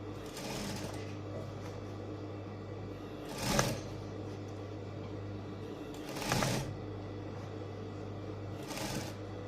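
A sewing machine runs steadily while top-stitching a ruffled sleeve lining, with a continuous hum broken by three louder bursts of stitching.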